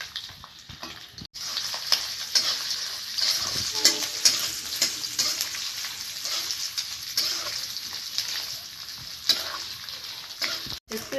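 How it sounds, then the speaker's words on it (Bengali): Grated coconut fries in hot oil with a continuous bright sizzle. Scraping stir strokes recur throughout, with a brief pause near the start. "এবারে তেলের মধ্যে নারকেলটা আমরা ভেজে নেব"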